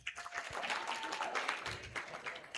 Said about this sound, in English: A round of applause to them tafadhali